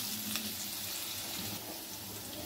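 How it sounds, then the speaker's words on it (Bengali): Potatoes fry in a pan with a steady, dense sizzle that holds close and even throughout, with no voices over it. "এবার ভালো করে আলুগুলো ভেজে নিতে হবে"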